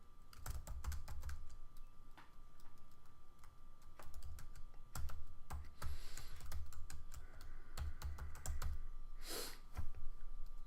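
Fingers tap on a computer keyboard in quick, uneven bursts of clicking keystrokes with brief pauses, close but soft, over a faint steady hum and no speech.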